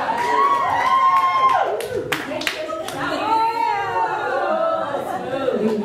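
An audience at a story slam show claps and cheers: steady applause with whoops and shouts runs throughout, loud and close, with voices calling out over it.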